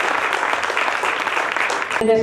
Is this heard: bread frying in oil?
no